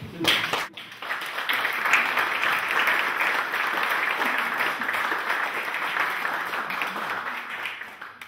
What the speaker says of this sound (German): die haben alle einen Applaus verdient